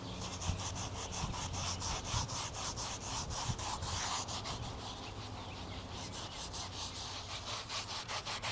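Steady back-and-forth scraping as an abrasive pad scuffs a plastic car interior trim piece, close and continuous with a rhythmic rasping texture.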